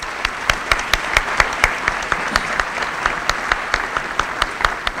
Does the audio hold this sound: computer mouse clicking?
no